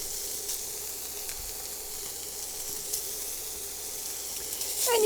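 Bacon fries in a pan as its fat renders, giving off a steady, even hiss and crackle close by. It swells slightly near the end, with no speech.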